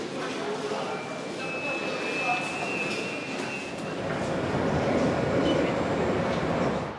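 Steady rumbling and rattling of a subway train in motion, with a brief high squeal partway through and faint voices under the noise.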